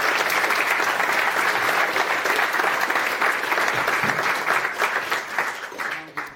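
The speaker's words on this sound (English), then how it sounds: "Give yourself a nice round of applause." Conference audience at a FOSDEM 2020 talk giving a sustained round of applause, dense and steady clapping from a large room that fades out toward the end.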